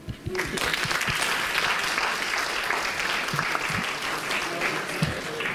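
Applause from a conference audience for the British English translation team at a GNOME Foundation annual meeting, sustained crowd clapping that starts abruptly and holds steady, with a few faint voices underneath.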